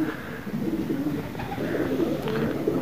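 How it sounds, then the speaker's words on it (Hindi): Soft cooing of pigeons being released from their loft repeats over a low, steady background rumble, with faint rustling, no voices. "शबीर भाई ने कबूतर खोलना शुरू कर दिया।"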